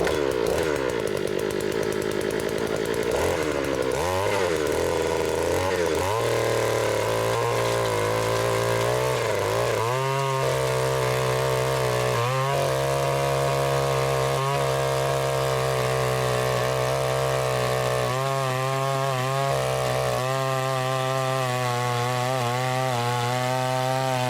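A gas-powered Vevor earth auger engine revs after priming and choking, a loud buzzing two-stroke drone that surges and dips in pitch, settling into a steady high idle with repeated throttle blips, no voices.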